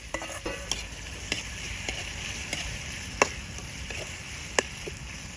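Small glass fish stirred in a hot pan while making Shan-style chili paste, a steady soft sizzle broken by several sharp spatula scrapes and clicks, no voices.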